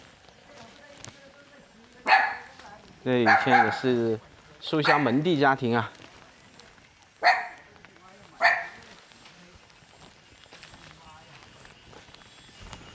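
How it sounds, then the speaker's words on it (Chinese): A small dog kept at a mud-walled house in a remote Hunan mountain village barks in several sharp, close bursts, with someone speaking between and around them. "这里养了一只小狗狗"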